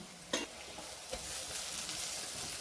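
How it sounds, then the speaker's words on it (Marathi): Fresh coriander leaves sauté in turmeric-tempered oil for kanda pohe, giving a soft continuous sizzle with a couple of stirring knocks against the pan. "तिथे आपण कोथंबीर पण चांगली फोडणीमध्ये परतून घ्यायची आहे"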